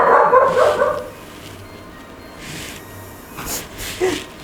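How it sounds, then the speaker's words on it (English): A dog barks at an allotment in a few sharp bursts, loudest at the start, then scattered fainter yips and barks over outdoor background noise. "She's barking at probably the neighbour's dog"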